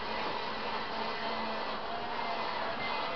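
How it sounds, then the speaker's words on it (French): Vacuum cleaner run over a pet with a skin problem, a steady moderately quiet whooshing hum throughout, alone without talk. "Avec l'aspirateur, c'est mieux"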